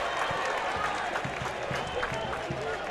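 Stadium crowd at a Sacramento Republic FC vs El Paso Locomotive FC soccer match cheering and clapping after a fan's header, a fairly faint, diffuse swell of applause under commentators talking.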